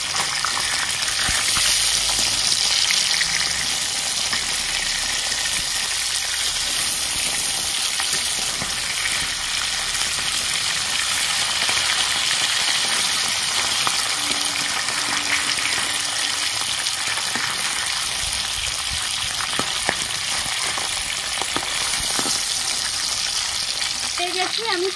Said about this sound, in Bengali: জ্যান্ত মাছ তো হালকা করে ভেজেছি